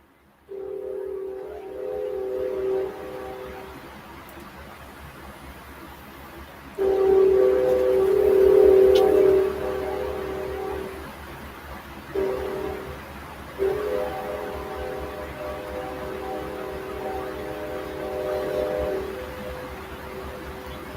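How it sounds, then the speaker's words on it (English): A train whistle sounds in long, loud steady blasts at intervals, mid-distance, with a low rumble of rail traffic beneath it and no talk over it. "y'all hear that train, don't you?"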